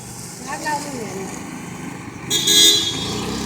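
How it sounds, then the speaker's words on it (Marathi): A car pulls up outside a home in Ambernath, with a brief horn toot near the end under steady road noise, while people talk nearby. "गाडी आलेली आहे आमची"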